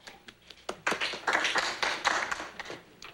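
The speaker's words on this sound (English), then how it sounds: "Oh, thank you for that smattering of applause." Sparse studio-audience applause on a sitcom talk-show set, scattered individual claps rising into a thin, uneven patter for a few seconds.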